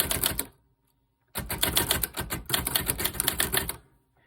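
Olivetti Lettera 25 manual typewriter being tested after a ribbon change, giving two dense bursts of rapid, close key strikes with clacking type bars, separated by a short silent pause.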